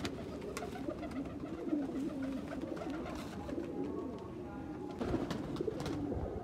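Ferozpuri pigeons cooing in a breeder's loft, soft repeated coos layered in a busy background with other bird sounds and someone talking over them.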